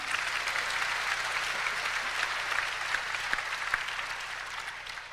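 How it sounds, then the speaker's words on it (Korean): A large congregation at a mass gathering of pastors claps together in a dense, even roar of applause that holds steady and tapers slightly at the end, with no speech over it. "박수요."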